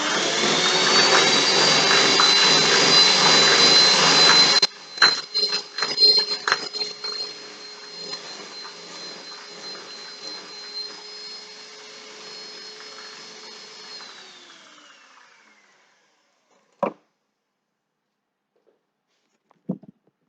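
An electric mixer whisks cake batter: a loud, steady whir for about five seconds, then stuttering bursts that trail off into a fading hum, followed by a few sharp clicks near the end.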